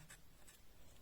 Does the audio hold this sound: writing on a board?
yes